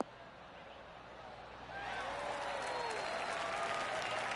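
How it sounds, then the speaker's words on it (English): Polite crowd applause from a golf video game rises after a quiet moment and holds as a steady, moderate patter of clapping, faint overall and with no talk over it. "That deserves a golf clap."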